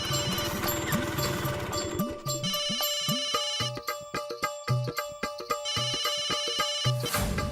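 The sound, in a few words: phone ringtone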